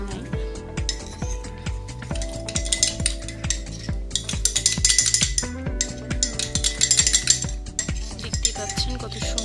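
A spoon stirs and scrapes through cocoa pudding mixture in a bowl, working out lumps with bursts of brisk scraping strokes, all set against steady rhythmic background music.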